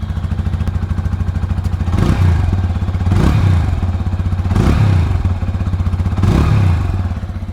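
A fuel-injected 2026 TVS Apache RTR 160 2V Racing Edition idles with a steady close thump, broken by four short throttle blips that rise and quickly fall back to idle.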